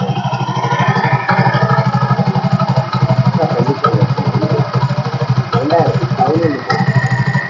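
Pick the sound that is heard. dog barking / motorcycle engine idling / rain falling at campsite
motorcycle engine idling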